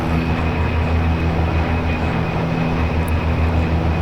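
An OV-10A Bronco in a DCS flight simulator gives a steady, loud, droning engine and propeller hum with a constant low rumble and a faint high whine. It is unbroken for the whole stretch, with no talk.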